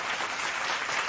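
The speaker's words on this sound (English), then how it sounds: "Let's give him some hand claps" An audience applauding a guest on a talk show, with a dense, steady patter of many hand claps throughout.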